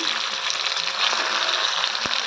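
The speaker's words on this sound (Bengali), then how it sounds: "এটাকে বেশি ফ্রাই করবো না এটি লেগে যাচ্ছে নিচে" Paneer cubes fry in a kadai for butter paneer, making a loud, constant close-up sizzle with a brief utensil tap near the end.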